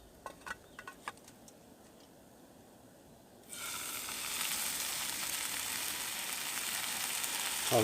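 Sausages fry in a pan at a wild camp. A few quiet clicks come first, then a loud, steady hiss of sizzling starts suddenly and keeps going, close and continuous, with no talking.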